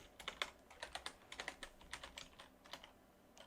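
Fingers typing on a computer keyboard in quick uneven bursts of clicks, close and quiet, with short pauses between runs of keystrokes and no voices.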